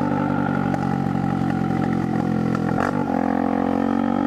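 A Honda Pop 100 motorcycle with a straight-through exhaust pipe runs close by, its engine revving with a rough, rattling putter and a sharp blip in pitch partway through.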